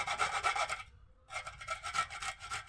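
Peeled hog plums (amra) are rubbed against a grater for chutney, giving a steady, close, scratchy rasp of rapid strokes that stops briefly midway and then resumes.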